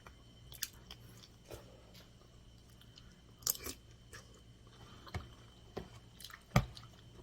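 Squash flowers being eaten, with soft wet chewing and occasional sharper crunchy bites spaced irregularly, close up and quiet, with no talking.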